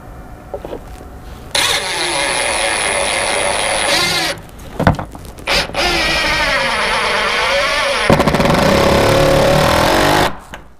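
A drill drives a screw into a nailed-down hardwood floor in several loud, close bursts of whining motor. The pitch rises and falls within each burst, with short quiet gaps between them.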